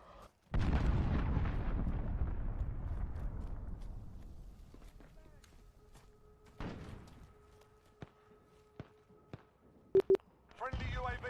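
A cruise missile strike in the Call of Duty Modern Warfare beta lands as one loud, close blast, followed by a long rumbling decay, a few sharp clicks and metallic impacts, with game voices and effects around it.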